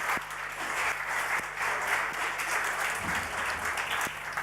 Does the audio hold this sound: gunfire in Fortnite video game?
no